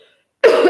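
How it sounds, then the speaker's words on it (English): A single sharp, loud cough from one person, close by and alone after a brief quiet moment. "I'm going to cough"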